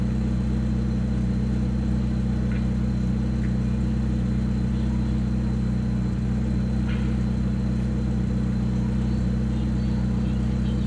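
A Suzuki Gran Vitara with a 1.8-litre AP engine idles steadily, a constant low hum and rumble that holds unchanged throughout with no talk over it.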